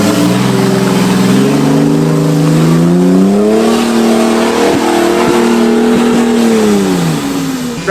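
LS V8-swapped Toyota 4Runner accelerating hard with rising, wavering engine revs, loud and close throughout, the pitch climbing and holding near the top before easing slightly at the end.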